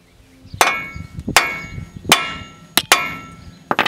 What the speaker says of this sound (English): I was gonna take my hammer